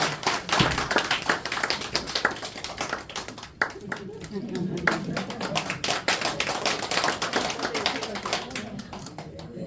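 Audience clapping at a church leader's inauguration service, with sharp hand claps rattling steadily through most of the stretch, loud and close, easing briefly midway before picking up again.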